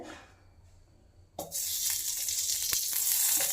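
Ghee sizzling in a pan before roasting makhana: a quiet stretch, then a sudden jump into a steady, bright hiss that stays loud and close, with no talk.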